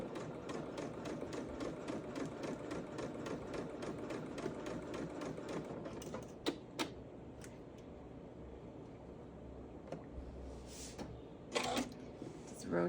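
A sewing machine stitches around the neckline of a fully lined, reversible top, its needle running in a steady rapid rhythm for about six seconds before stopping, followed by quieter handling clicks and fabric shifting.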